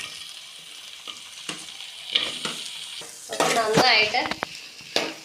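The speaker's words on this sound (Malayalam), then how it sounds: "സവോള അരിഞ്ഞു വെച്ചത് ഇട്ട് കൊടുക്കാം" Chopped onions tossed into hot oil with browned ginger and garlic for butter chicken, sizzling and frying steadily while being stirred, with louder bursts of crackle midway and a few brief words spoken over it.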